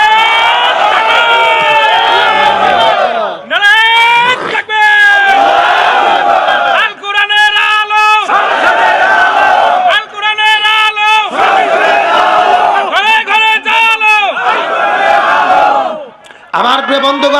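A large crowd at a religious sermon chants the takbir slogan in loud, rhythmic call-and-response, a single leader's shout alternating with massed voices roaring back in repeated bursts.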